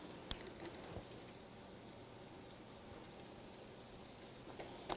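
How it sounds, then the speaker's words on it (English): Chicken breasts frying in a pan give off a soft, steady sizzle and crackle with a few scattered pops. The sound is quiet and close, with no talking over it. "Oh yes, we can hear them starting to sizzle now."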